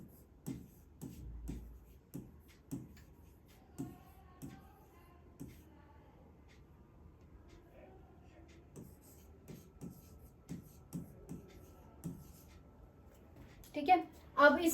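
Marker or chalk scratching on a board during a number-system maths lesson, short rhythmic strokes repeating fairly quietly with occasional soft talk.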